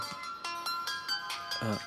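A short melodic phone ringtone plays in quick repeating tones, close and clear, followed by a brief voice.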